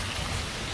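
Heavy rain from a storm pours down in a steady, dense roar, close and continuous with no pauses.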